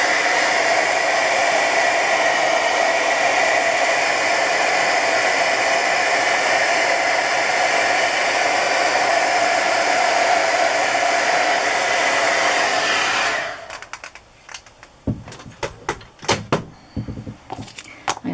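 A heat tool blows hot air over black paint and a glue-stick collage page: a loud, steady whooshing roar for about thirteen seconds, then it cuts off, leaving scattered light taps and handling sounds.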